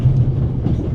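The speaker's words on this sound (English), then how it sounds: "First, I'll stop the train" A train in the video game The Raven Remastered rumbles along with a deep, steady low-end drone and faint rolling clatter, loud and close, with no talking.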